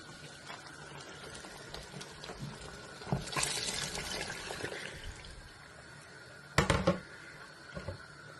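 Cooking water from boiled chickpeas is poured into a pot in a home kitchen, a soft trickle building into a brief splashing pour, then a second short splash, fairly quiet and close.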